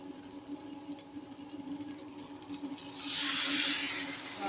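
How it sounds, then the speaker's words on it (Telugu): Water poured into a pan of crab curry, a soft pouring splash swelling up near the end of a quiet kitchen moment. "మగ్గిన తర్వాత వాటర్ వేసుకోండి"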